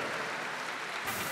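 Applause fills a hall at the KHL draft as a young hockey player from the Rus school is called up, a brief steady wash of clapping without speech.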